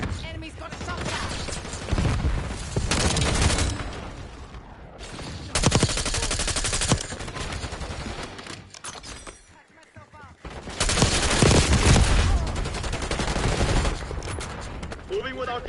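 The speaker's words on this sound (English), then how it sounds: "Enemy's got a shotgun." Shotgun fire in Call of Duty Black Ops 6 during a multiplayer match. Loud close bursts of gunfire come in several clusters with brief lulls between them, and in-game voice callouts sound in places.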